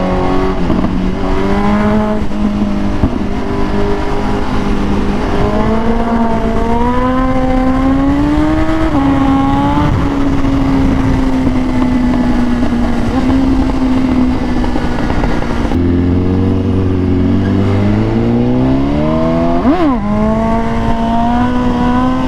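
BMW S1000RR sport motorcycle riding through afternoon traffic: a loud, continuous engine note that rises and falls with the throttle, then drops sharply to a low idle-like pitch before revving back up, close to the mic and with no talk.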